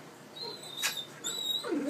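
A miniature pinscher whimpering close by, with thin high-pitched whines and squeaks in brief separate bursts, faint and alone.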